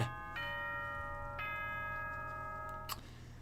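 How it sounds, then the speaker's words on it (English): School bell chime in the Danganronpa video game: three bright, ringing tonal notes spaced about a second apart, each sustaining and slowly fading over a low steady background hum. "That is such a typical frickin' school bell noise."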